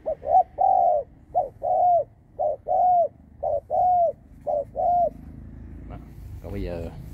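A Chà Là Tây Ninh dove coos repeatedly and close by, giving about eight hollow, rhythmic coos with brief pauses between them. A voice is briefly heard afterward.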